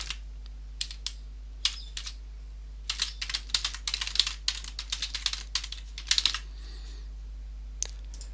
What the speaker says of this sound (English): Type in your first name, last name, and your personal email address.